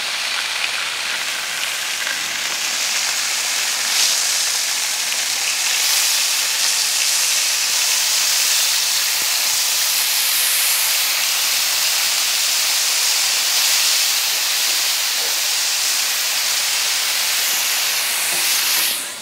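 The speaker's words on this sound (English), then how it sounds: "I'm going to still throw bacon on the griddle" Uncured bacon sizzling on a griddle at a campsite, a steady loud hiss and crackle that holds without a break, with no talk.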